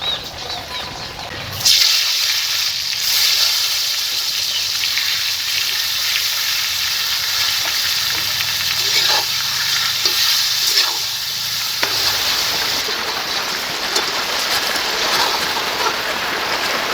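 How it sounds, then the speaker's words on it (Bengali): Eggplant slices rubbed with salt and turmeric frying in mustard oil left from frying fish, a loud steady sizzle that starts abruptly and carries on without talk, close to the pan. "এই যে নুন হলুদ মাখানো বেগুনগুলো এখন মাছ ভাজার তেলে ভেজে নেব"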